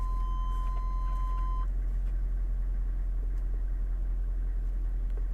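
A GM 6.5L diesel engine idles steadily after starting, a constant low rumble that follows a short electronic beep at the start.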